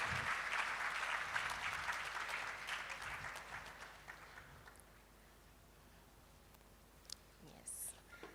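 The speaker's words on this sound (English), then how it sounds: "Please, a round of applause as we welcome Prof." Audience applause at the opening session of a women-in-STEM conference, fairly dense clapping that fades away over the first few seconds, leaving quiet room tone and faint scattered sounds.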